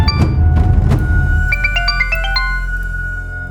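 A phone rings with an incoming call, a bright electronic melodic ringtone of quick stepped tones playing over a low background rumble, close and clear, with no talk.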